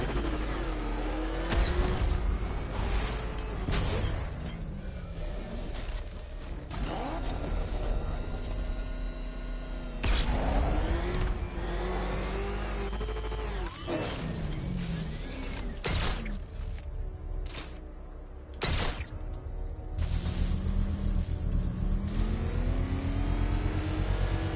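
A car engine races in the Batman Arkham Knight video game, revving up and down repeatedly with rising and falling pitch sweeps, loud and continuous, broken by a few short gaps.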